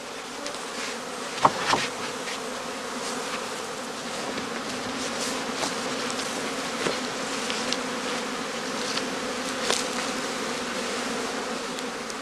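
Honeybees buzz at a heather skep apiary during the cast swarming period. A dense, continuous hum of many insects fills the air, with a few louder passes of single bees flying close by.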